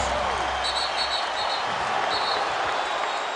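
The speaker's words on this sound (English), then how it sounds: "Listen to this crowd." Large basketball arena crowd at Staples Center during a Lakers versus Raptors game, a continuous loud roar of cheering that fills the space, steady throughout with no clear individual voices standing out.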